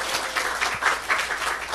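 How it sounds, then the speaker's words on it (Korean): A church congregation applauds together during a Sunday service, a steady wash of hand claps with a slight pulsing rhythm, moderately loud and close, with no speech over it. "그렇게 하실 하나님께 박수만 해드립니다."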